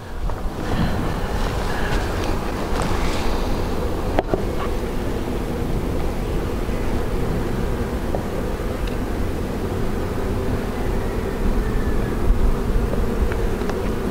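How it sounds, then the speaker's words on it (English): Golden Cordovan honeybees buzz steadily around a hive box outdoors, a dense, continuous swarm drone that holds close and loud throughout, with light wind noise underneath. "A few bees right here."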